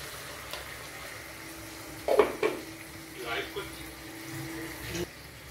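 Chicken feet curry with ginger-garlic paste, cumin, chilli powder, green chilli and coriander powder is stirred and sautéed in a pan, giving soft sizzling and a few scraping strokes at close range.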